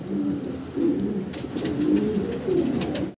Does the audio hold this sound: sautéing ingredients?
no